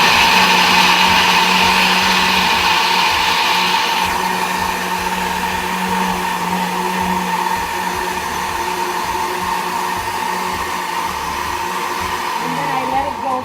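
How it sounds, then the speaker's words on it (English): A high-speed blender roars steadily and loudly while blending coconut for coconut milk, its motor pitch shifting slightly as the contents churn, with no talking. "you'll see how fast all this coconut will blend in this high-speed blender"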